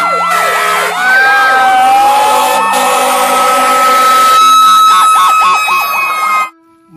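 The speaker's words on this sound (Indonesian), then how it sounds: "Pemadam kebakaran teman-teman." A toy fire truck siren sounds loudly, with rising wails giving way to a fast warbling tone before stopping suddenly.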